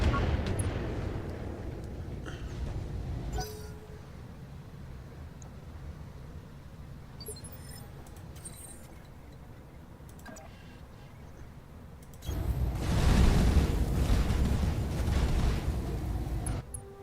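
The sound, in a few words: mech weapons fire and explosions in the video game Battletech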